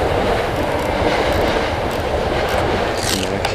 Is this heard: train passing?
yes